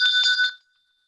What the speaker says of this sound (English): I have my own award, which is a replica of the Liberty Bell